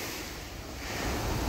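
Sea waves washing onto a beach in Kuwait, a steady broad roar of surf with wind buffeting the microphone, building slightly louder toward the end, no voices.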